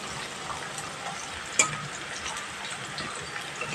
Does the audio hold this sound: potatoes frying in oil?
yes